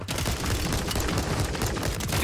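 Dense gunfire in the Warzone video game: rapid automatic bursts overlap into a continuous loud fusillade with booming impacts, and no voices.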